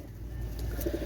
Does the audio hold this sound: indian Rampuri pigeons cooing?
yes